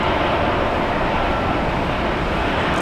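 An airliner taking off from Brisbane Airport gives a loud, steady, broadband engine roar that holds constant throughout, with no voices over it.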